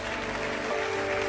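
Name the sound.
congregation applauding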